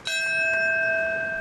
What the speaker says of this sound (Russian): Колокол ударил в 8:46 утра.